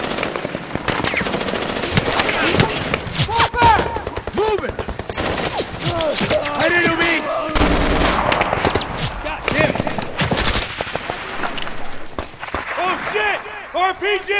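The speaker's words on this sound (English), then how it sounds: "Suppressive fire!" Machine-gun bursts and rifle shots crackle loud and nearly nonstop through a close-range military firefight, with shouting voices mixed in among the rapid fire.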